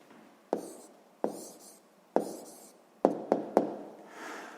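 Pen or pencil on paper while a math answer is written out by hand: a series of sharp taps and short strokes, some in quick succession, close and fairly quiet, with no talk.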